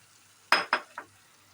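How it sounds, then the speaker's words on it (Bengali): Fried soybeans are tipped into a spice masala in a cooking pan, making three quick clattering thumps that fade in loudness before the sound drops to near quiet. "এবার আমি ভেজে রাখা সোয়াবিনগুলো এতে অ্যাড করে দেবো"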